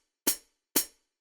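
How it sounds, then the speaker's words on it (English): A sampled pedal hi-hat from an indie dance beat, the closing chick of a real hi-hat pressed by foot, sounding as three short crisp hits at an even pace, quiet and alone. "So the first one we've got is this pedal hat"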